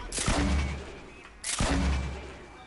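Two loud, booming gunshots in Fortnite, about a second and a half apart, each close and heavy with a short decaying tail.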